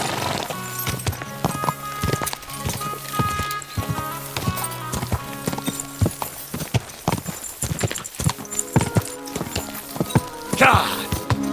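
Rhythmic clip-clop of horse hooves at a quick gallop in Kingdom Come: Deliverance 2, loud and close, with a brief neigh near the end.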